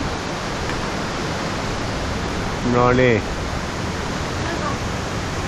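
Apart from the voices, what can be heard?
strong wind blowing in the forest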